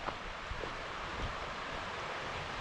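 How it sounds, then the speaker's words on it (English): Steady broadband rush of a mossy mountain creek flowing along the Timberline Trail on Mount Hood, continuous and fairly even, with no talk over it. "Wow, the creek is beautiful."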